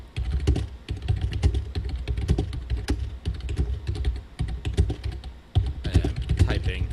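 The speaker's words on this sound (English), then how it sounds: "I am typing." Rapid clacking of keys on a computer keyboard, close and fairly loud, continuing in dense bursts with brief pauses throughout.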